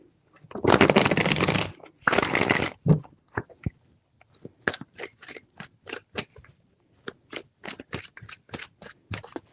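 A tarot deck is shuffled close by in two long riffling bursts. Sparse, crisp card taps and flicks follow at irregular intervals, with no talking.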